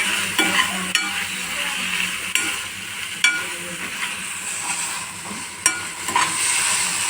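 Chapathi noodles are stirred in a frying pan, sizzling steadily under repeated scrapes and sharp taps of a utensil against the pan at an irregular pace.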